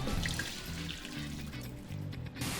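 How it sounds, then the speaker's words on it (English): Cold tap water runs into a bowl as it is rinsed, a steady close splashing trickle with small drips, moderately quiet and without talk. "I'm going to rinse this with cold water until the water runs big."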